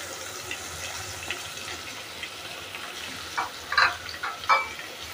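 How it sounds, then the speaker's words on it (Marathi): Onion being sautéed in a pan with garlic that has already turned lightly red, giving a soft, steady sizzle with a few louder crackling bursts toward the end. "आता हा कांदा ह्याच्यामध्ये घालून घ्यायचा।"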